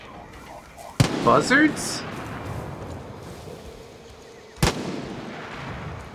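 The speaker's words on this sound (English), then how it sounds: "What the fuck are you shooting at?" Two sharp gunshots in the video game Far Cry 5, one near the start and one about three and a half seconds later, each loud with a ringing tail, while people talk over the top.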